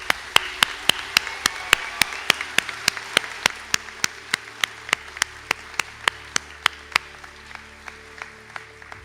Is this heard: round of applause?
yes